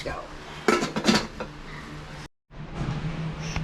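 A lid clatters onto a pot of chicken tinola, sharp metallic clinks of cookware ringing close and loud over a low kitchen hum, then a brief silent gap before steady background noise returns.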